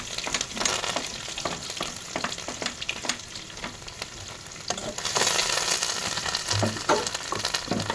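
Chopped onion and curry leaves sizzle steadily in hot oil in a frying pan, a continuous close crackle broken by occasional stirring scrapes.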